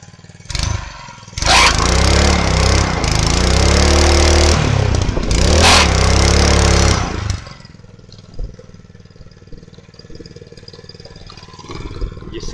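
A 4 hp Venom trike engine starts and runs loudly up close, its clattery small-engine roar surging twice as the clutch engages, then dropping to a faint idle with light mechanical rattles.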